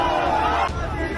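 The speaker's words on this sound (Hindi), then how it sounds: "अतीक अहमद मुर्दाबाद और फांसी दो के नारे लग रहे थे।" A large, angry crowd of lawyers at a court complex shouts slogans together in a dense, continuous roar of voices with no pauses.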